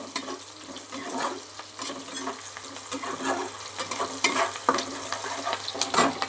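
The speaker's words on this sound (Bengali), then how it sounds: "আগে পেঁয়াজ কুচিটাকে লাল লাল করে একটু ভেজে নিই" Chopped onions sizzle and fry in a pan for chicken curry, a steady crackle broken by repeated scraping stirs, close and fairly loud with no talking.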